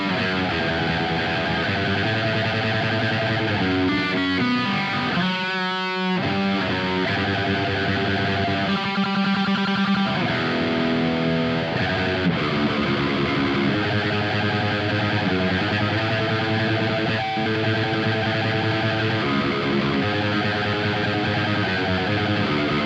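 Heavily distorted electric guitar played through an ENGL E530 preamp into a Peavey 6505 power amp, with chugging metal riffs and sustained chords that fill the whole clip loudly and continuously.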